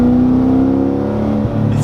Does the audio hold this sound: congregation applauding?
no